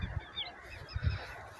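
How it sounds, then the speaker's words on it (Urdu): Goose-like honks sound in a rural Pakistani village at morning, amid wheat and sugarcane fields: a few low, fairly faint honking calls in two short bursts, with soft ambient bird chatter and no talking. "صرف پرندوں کی آواز آ رہی ہے"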